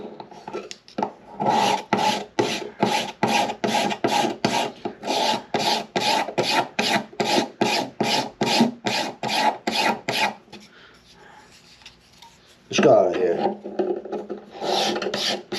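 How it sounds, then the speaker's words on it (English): Wood is scraped inside a Martin D acoustic guitar during brace repair: about sixteen even, rhythmic rasping strokes, close and loud, then a short pause and a few more strokes. "Okay, now scrape this."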